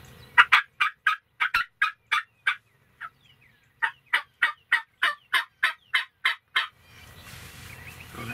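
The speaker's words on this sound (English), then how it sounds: "I don't know if you heard them, but they're back there gobbling." Wild turkeys, a gobbler and a jake, call in sharp, loud bursts repeated in quick succession, with a short pause midway, then give way to quiet outdoor background.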